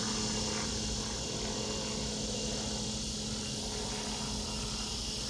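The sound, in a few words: helicopter flying by during thunderstorm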